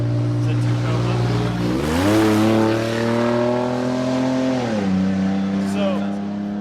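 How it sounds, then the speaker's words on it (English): A rally truck, a built-out truck, drives past on a canyon road at Live Oak, its engine note climbing steeply as it nears and holding high before dropping away as it passes, loud and close throughout. "that was a rally truck that just went by"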